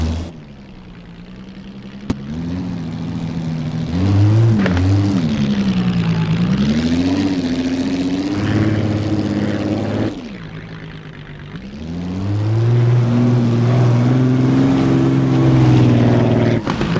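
Napier Railton race car in Assetto Corsa, sliding sideways on poor tires: a loud, deep engine drone rises and falls as it revs, drops briefly when lifting off, then builds again into a sustained roar, with no talking.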